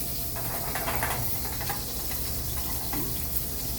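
Chicken browning in a pan, a steady, even sizzle and hiss holding at a moderate level throughout, with faint crackles rising briefly within it.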